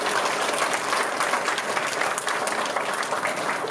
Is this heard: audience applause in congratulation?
yes